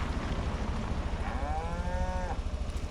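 On a farm, a cow gives a single drawn-out moo over steady rumbling background noise, clear and moderately close.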